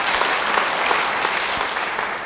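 A church congregation during a sermon breaks into loud, lively applause, a dense crackle of many hands clapping steadily with a few sharper individual claps standing out.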